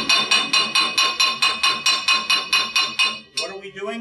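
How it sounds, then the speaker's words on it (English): A hammer peens a weld deposit on cast iron with a steady run of about fifteen sharp ringing metallic strikes, loud and close, before it stops and a few softer taps follow. "By peening, we're driving the weld back down into our canal or our trench that we created without a grinding wheel."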